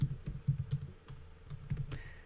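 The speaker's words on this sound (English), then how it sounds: "I'm just typing the names in Romaji to make it easier to understand" Keys clatter on a computer keyboard in quick irregular bursts, close and fairly soft, with brief pauses between runs of typing and no talking.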